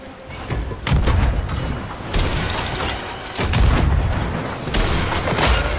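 Repeated booming cannon shots from a ship in the pirate video game Sea of Thieves, several heavy blasts spaced a second or so apart, loud and close over a rumbling sea-battle background.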